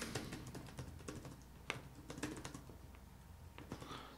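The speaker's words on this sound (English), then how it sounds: "Now I am using a keyboard case for it." Fast typing on a Zagg keyboard case for a Galaxy Tab Pro 12.2 gives steady, quiet key clicks in an irregular rhythm with a few louder taps, heard close up with no voices.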